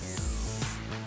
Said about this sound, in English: using a finishing spray, just gently work over the surface